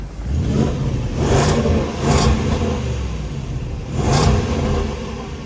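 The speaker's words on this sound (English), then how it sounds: "Let's just hear the engine one last time." A Range Rover Sport SVR's V8 engine idles with a deep rumble, punctuated by three sharp throttle blips spaced a second or two apart, close by.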